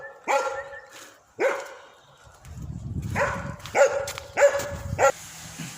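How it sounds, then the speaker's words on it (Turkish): A dog at a villa barks in sharp single barks spaced out, then a quicker run of barks, fairly close, with low rumbling noise between. "köpek geldi"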